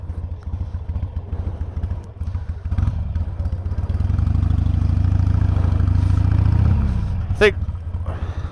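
A Harley-Davidson Sportster 883 rumbles close by, its engine loping low at first and then swelling into a louder sustained drone as it rides off, easing back near the end with a brief squeaky noise over it.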